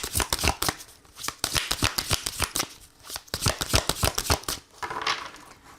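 A deck of oracle cards is shuffled and cut close up, giving rapid, rhythmic slapping riffles in quick bursts with brief pauses, loud and alone without talk.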